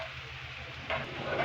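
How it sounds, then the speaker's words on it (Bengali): Ash gourd fried with egg sizzles softly in a pan, a faint, steady crackle that brightens briefly near the end, with no talking. "ডিম দিয়ে ভাজা করছে।"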